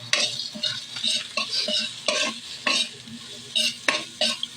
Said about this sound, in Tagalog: halu-haluin hanggang mag-brown yung bawang. At saka yung medyo magluto-luto yung sibuyas.